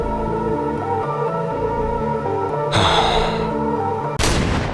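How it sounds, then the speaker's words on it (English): Two sharp gunshots in the I Am Your Beast video game, one near the middle and a louder, abrupt one near the end, each cutting loudly across a steady droning music bed. "Then I heard the gunshot."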